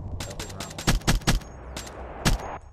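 Sharp, loud bursts of gunfire in a team shooter video game ring out in a rapid cluster of about seven reports, with a background hum and brief gaps between shots.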